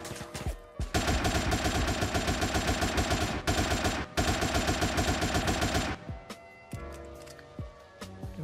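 AK rifle gunfire in a GTA game, loud sustained bursts of rapid automatic fire in several long volleys with brief gaps, followed by scattered single shots and clatter.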